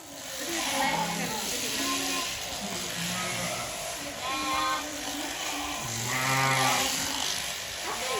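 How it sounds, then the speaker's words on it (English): Sheep penned overnight and waiting to be shorn, bleating repeatedly at close range over a steady background hiss of machinery, with a voice talking at times. "these are the sheep all ready to be shorn"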